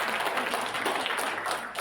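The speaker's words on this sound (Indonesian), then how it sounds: "Tepuk tangan Ibu Emi sekali lagi" An audience at an inauguration ceremony for a foundation's new board claps steadily, a dense burst of applause heard from within the hall, fairly faint and brief.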